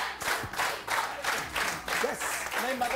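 Studio audience clapping on a morning television show, heard as a series of fairly quiet, rhythmic bursts with brief gaps between them and some voices in the background.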